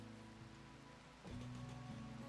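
Rain falls steadily in the Rimworld video game, a soft constant patter layered over a low game music drone that shifts partway through.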